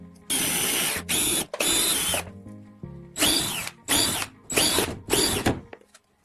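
A power drill boring holes in a plastic bottle, running in about six loud, close bursts of whining spin separated by short pauses, with no talking.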